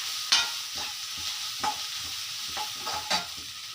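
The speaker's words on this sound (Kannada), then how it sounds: "ಶುಂಠಿ, ಜೀರಿಗೆ, ಮೆಣಸು ಮಿಕ್ಸಿಗೆ ಹಾಕ್ಕೊಂಡಿರೋದನ್ನು ಈ ಒಗ್ಗರಣೆಗೆ ಹಾಕ್ತಾಯಿದ್ದೀವಿ" A ground paste of ginger, cumin and pepper sizzles in hot tempering oil for pongal. The frying is soft and steady, with a few distinct stirring scrapes spaced through it.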